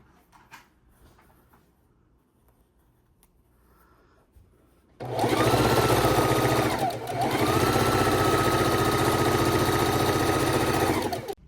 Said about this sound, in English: So we've sewn our sides together.